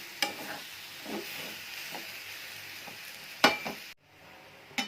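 Potato filling for masala dosa sizzling gently in a pan over a low flame, with a steady soft fry hiss and a few scattered stirring scrapes and clinks, close by and with no voices.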